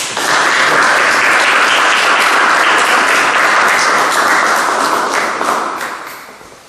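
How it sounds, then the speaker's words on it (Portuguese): Loud, close audience applause greets a lecture speaker at a cultural week event in a village hall, dense and sustained for about five seconds before tapering off. "Peço uma salva de palmas para o Dr."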